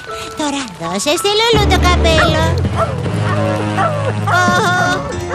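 A dog barks and yips repeatedly, close and loud, while people talk over it.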